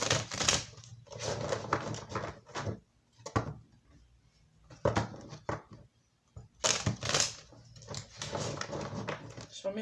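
Tarot cards being shuffled by hand during a reading, giving repeated papery riffles and slaps in bursts with short pauses between them, fairly close and moderately loud.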